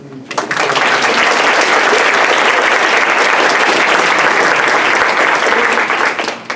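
A large lecture audience applauds steadily, a dense wash of clapping that swells in quickly and holds loud and even for several seconds before easing slightly at the end.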